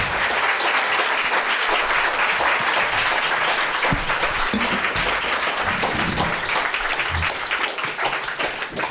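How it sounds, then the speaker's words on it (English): A theatre audience at a live comedy recording at Soho Theatre greets comedian Jeremy Hardy with sustained, dense applause that stays loud for several seconds, then begins to thin toward the end. "Would you please welcome with warm applause"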